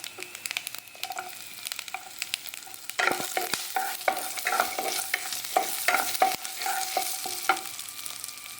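Garlic fries with pepper, cumin and coriander, making a hissing sizzle that grows louder partway through. Frequent spoon scrapes and stirring clatters sound close by, with no one talking.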